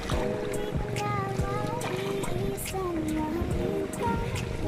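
Rough waves slap around a small paddled outrigger boat on the sea off Siruma, a steady broadband wash of water and wind, with voices talking over it throughout.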